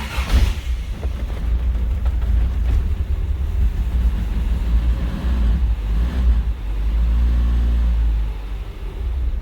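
A freshly rebuilt 1983 Toyota Tercel wagon engine running steadily just after starting, a loud, close, continuous low rumble with a slight rise in level toward the end.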